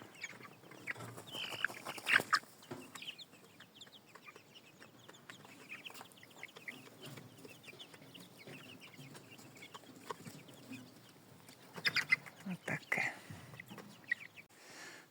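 Faint chirping and cheeping of one-month-old chickens indoors in a boiler room, with scattered peeps and a few louder bursts, while a person speaks quietly.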